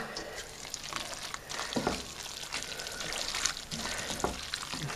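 Single cream of about 25% fat is poured into a pan of saag paneer on the stove, a soft trickle over gentle frying sizzle, with light stirring noises close by.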